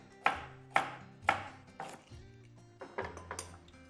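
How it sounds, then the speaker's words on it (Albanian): A kitchen knife slicing carrots into discs on a cutting board, with about eight sharp chops, the first few evenly spaced and loud, the later ones quicker and softer. "Karotat i marr dhe i pres në disqe"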